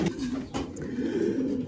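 Pigeons in a loft coo steadily and softly at close range, a continuous low murmur of overlapping calls with no talking.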